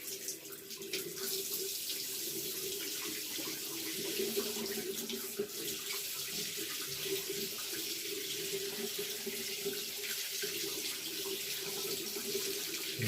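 A sink tap runs steadily with hot water for handwashing, a continuous close splashing stream without pause and no talk over it.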